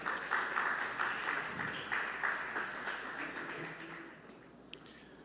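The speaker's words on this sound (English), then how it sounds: "Please, a round of applause," An audience at the Association of Advertising Agencies of Nigeria annual general meeting applauds for the Lagos State governor, a steady, moderately distant patter of clapping that slowly fades.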